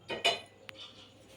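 A thick-bottomed kitchen pot handled on a stove while making a homemade jaggery sweet: two quick metallic clanks close by, then a faint tap and light scraping.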